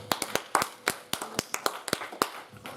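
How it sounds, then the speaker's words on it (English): A church congregation claps hands at an evening healing service, sharp irregular claps rising from several people in an uneven rhythm, fairly close and distinct. "Clap your hands and celebrate God."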